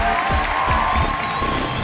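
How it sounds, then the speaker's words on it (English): Applause from an awards ceremony audience, dense clapping with some crowd noise, brief and fairly loud. "a big round of applause for Mr. Naval Bajaj."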